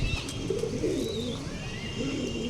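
Broad-chested pigeon of an old bloodline, kept for rooftop pigeon flying in the Old City, cooing in low, rolling throaty pulses close by, steady and alone with no talk.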